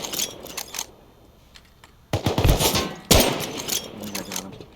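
Gunfire in the survival video game Rust aboard a cargo ship: sharp, loud bursts of shots that cluster early, then two heavy blasts about a second apart later on, with quieter clatter in between.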